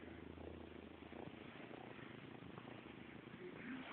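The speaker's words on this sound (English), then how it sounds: "Purring." Foster kitten, a little baby girl, purring softly and steadily up close, a faint continuous low rumble with a quiet voice briefly near the end.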